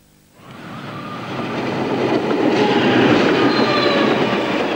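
An XPT passenger train approaches and runs through the Penrose level crossing, a rising rumble that swells from near silence to a loud, sustained roar of wheels on rail with faint squeal, no voices.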